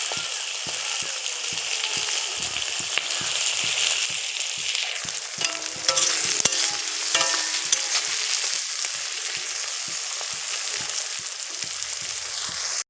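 Chopped onions and green chilies frying in oil in a pan, a continuous loud close sizzle with scraping and stirring strokes scattered through it and no voices.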